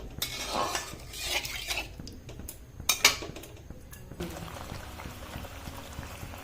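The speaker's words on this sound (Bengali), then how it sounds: "ঝোলটা ফুটে এলে" Coconut-milk curry gravy for prawn malai curry bubbling and simmering in a pot, with a few clinks of utensils against metal and a brief louder scrape partway through.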